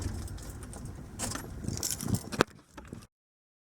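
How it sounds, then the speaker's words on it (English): Keys jangle in a quiet parked vehicle as it is switched off, a few close metallic rattles and clicks over faint low rumble, ending in a sharp click and then silence. "getting ready to turn the vehicle off now."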